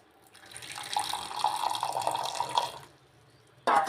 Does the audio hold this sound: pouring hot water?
yes